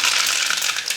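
Mustard seeds dropped into a hot pan, a brief, loud, close burst of crackling and sizzling spitting.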